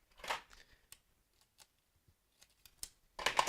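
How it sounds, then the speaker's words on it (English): Scissors snip tape during a Joy-Con nunchuck mod, with a few quiet, separate cuts and crinkles, close and sparse, and a louder rustle of tape at the start and end. "Scissors."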